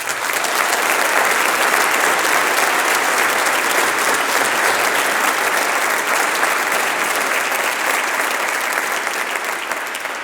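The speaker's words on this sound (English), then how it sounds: "Can we give our teachers a round of applause" A graduation audience applauds the teachers, with dense sustained clapping from a large crowd that holds steady and loud throughout.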